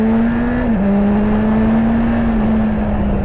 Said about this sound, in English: Bike shifts well without the clutch,